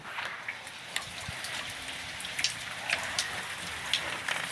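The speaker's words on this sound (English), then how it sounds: "Still raining." Steady rain falls outside, heard from indoors as a soft, even hiss. Scattered brighter drips tap now and then, and no one speaks.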